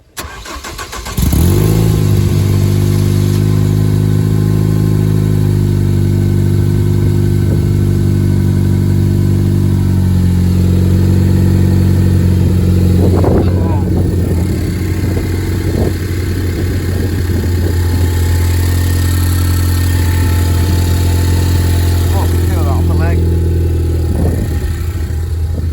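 Zenos E10s sports car engine cranks and catches, then settles into a loud, steady idle close by, with a few brief blips of revving toward the middle and end.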